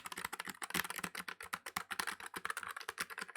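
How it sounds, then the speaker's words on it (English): Rapid typing on a Nuphy Air75 low-profile mechanical keyboard with red switches, a dense, crisp stream of close clacks without talk. "It's a custom mechanical keyboard."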